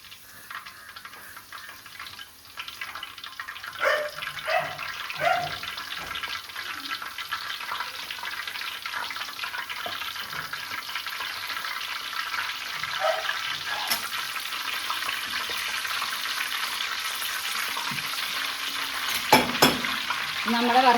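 Hibiscus flowers dropped into hot oil for a homemade hair oil sizzle steadily, with scattered pops and clinks and a brief louder crackle near the end, no voices.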